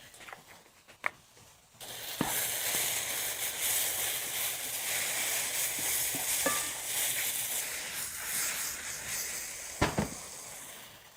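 King trumpet mushrooms fry in a dry pan with smoked paprika, giving a steady crackling sizzle after a quiet start, with a couple of sharp utensil clicks and scrapes against the pan.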